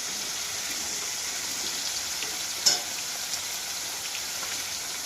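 Chicken pieces with salt and turmeric sizzling in a pan, a continuous even hiss with one brief sharp scrape or clink midway, close and moderately loud, no voices.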